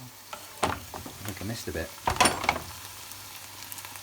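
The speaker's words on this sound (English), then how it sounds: "I've got the celery, the peppers, the leeks, the onions, the rice, all bubbling away nicely together" Celery, peppers, leeks, onions and rice for a risotto sizzle and bubble in a pot while being stirred, a soft crackling hiss broken by scraping clatter, as someone talks briefly over it.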